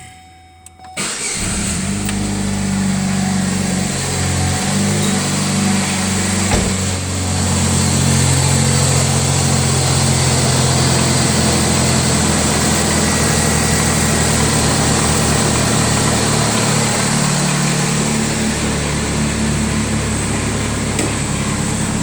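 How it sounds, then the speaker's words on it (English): A car engine cranks and catches after a portable jump starter is used, then settles into a steady, loud idle with a low rumbling hum that continues unbroken. "So as you can hear, car is started."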